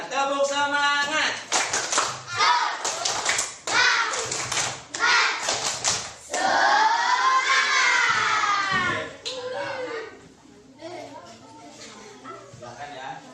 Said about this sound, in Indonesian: Ayo dong, tepuk semangatnya gimana?